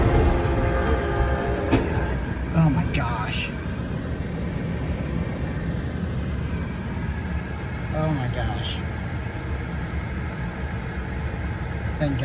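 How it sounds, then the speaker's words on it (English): A train rumbles past a level crossing with continuous heavy rolling noise and occasional rhythmic clacks, while people talk excitedly over it. "Oh, the train's right there."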